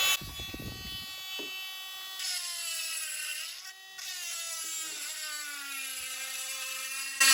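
A Hyper Tough rotary tool spins a burr at full speed against a very hard piece of petrified wood, giving a steady high-pitched whine. The pitch dips briefly as heavy pressure bogs it down, then recovers.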